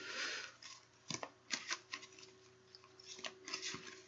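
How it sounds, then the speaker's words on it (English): Angel oracle cards being shuffled by hand, giving soft scattered taps and riffling clicks that are quiet and close, with short bursts and pauses over faint background hum. "Give these another little shuffle for the bloodstone people."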